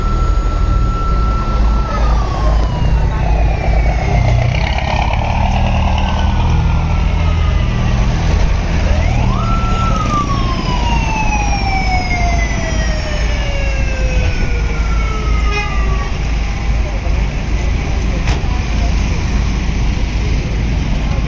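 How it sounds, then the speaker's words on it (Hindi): Emergency sirens at a building fire at Noman Center in Saddar wail in long, falling sweeps that repeat and overlap, rising again partway through, above a constant loud rumble of street traffic and idling vehicles. "एम्बुलेंसेस भी आ गई हैं यहाँ पर।"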